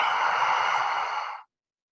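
One airy, hissing inhale through the mouth, made with the tongue pressed far back against the roof of the mouth, is heard up close and lasts about a second and a half before cutting off into silence.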